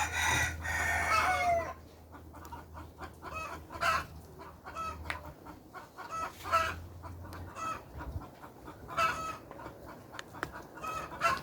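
Chickens on a Jamaican farm in Manchester: a rooster crows near the start, then hens cluck in irregular bursts, with scattered fowl calls and a low background hum, close and fairly loud.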